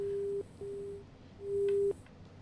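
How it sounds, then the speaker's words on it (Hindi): A telephone line tone sounds after a call disconnects: repeated steady beeps in a clear on-off pattern, faint and alone with light background hiss. "चलिए, फोन डिस्कनेक्ट हुआ है।"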